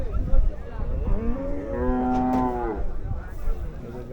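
A cow moos loudly and close by at a crowded rural livestock market in Rupganj, one long drawn-out low call amid market murmur and voices.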